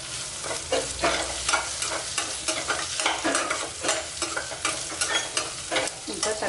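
Onion and curry leaves fry in a pan as the base for a horse gram rasam, a steady close sizzle broken by regular scraping stir strokes, with no voices.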